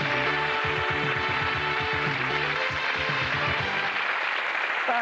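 A game show studio audience gives a departing contestant a round of applause, heard as continuous, fairly soft clapping under a low rhythmic musical sting.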